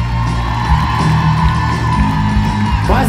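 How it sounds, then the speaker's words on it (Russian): Live concert audience roaring with cheers and whoops, a loud continuous wash of crowd noise with scattered shouts rising and falling over a steady low rumble. "провожаем ребят очень громкими аплодисментами"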